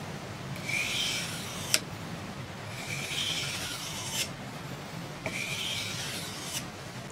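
A hook knife is sharpened along its bevel in three long rasping sweeps, each ending in a sharp click, with short pauses between strokes, close and steady.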